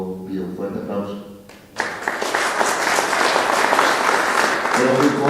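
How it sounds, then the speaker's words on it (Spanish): A voice speaks briefly before an audience at an association's board installation breaks into loud, sustained applause that starts abruptly and swells to a full, even roar of clapping. "un fuerte aplauso"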